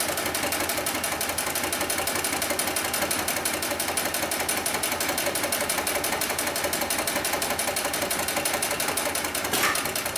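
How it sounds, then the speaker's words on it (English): Industrial sewing machine stitching through four layers of heavy-duty webbing, a loud, steady, rapid mechanical chatter running continuously throughout, with a brief change near the end. "we'll go ahead and sew through 4 layers of this heavy duty webbing"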